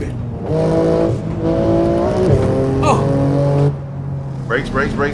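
Racing video game car under heavy braking, engine note dropping with a sustained tire squeal mid-clip, while several people talk excitedly over the game audio.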